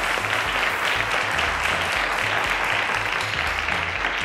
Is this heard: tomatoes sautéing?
no